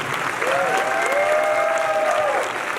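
Applause from a fan convention audience at a Kameha Con 2019 panel, steady loud clapping with some cheering throughout, no talk.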